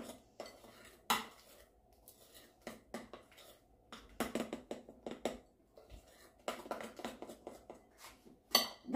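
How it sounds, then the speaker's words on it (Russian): Spoon stirring dough with activated dry yeast in a bowl, irregular bursts of clinking and scraping against the dish, close and moderately loud, coming in short uneven strokes with brief pauses between. "Теперь все перемешиваем."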